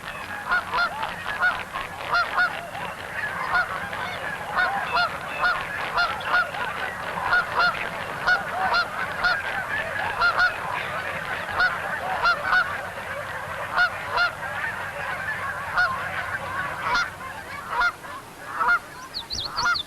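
A flock of Taverner's geese honks continuously, many overlapping calls forming a dense, steady chorus with no pauses.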